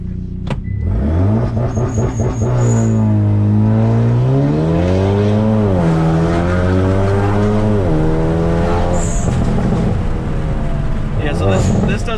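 Hyundai Veloster N with a dual-clutch transmission and aftermarket downpipe launching under launch control, engine revving hard in rising and falling sweeps through gear changes, loud and close from inside the cabin.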